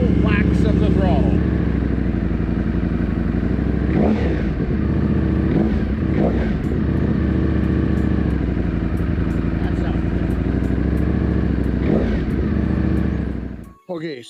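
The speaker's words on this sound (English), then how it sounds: "we're going to go ahead and give it a couple whacks of the throttle" A Ducati motorcycle engine, warmed to operating temperature, idles loudly and close, then takes several sharp throttle blips that rise and fall, with a quick cutoff at the end.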